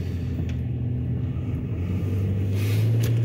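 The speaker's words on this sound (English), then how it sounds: "I'm back in the car driving." A car drives along a city street near Kensington, heard from inside the cabin as a steady low engine and road rumble that swells slightly louder toward the end.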